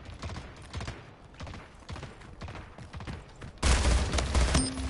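Rapid gunfire from Splitgate, an arena shooter: repeated bursts of shots, then a louder, denser volley near the end, with no voices over them.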